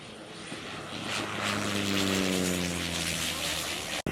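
A propeller airplane arrives at an airport in Kenya, its engine drone building loud and close with a rising whine before cutting off abruptly.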